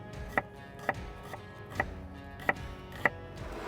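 A knife slices finely through a shallot on a board, giving about six crisp, evenly spaced cuts, close but quiet over a low background hum, with no voices.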